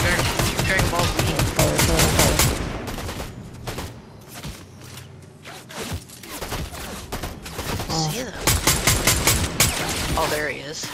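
Gunfire in Fortnite: dense, loud bursts of rapid automatic fire, pausing midway and then resuming in quick rattling volleys, with a voice talking over parts of it.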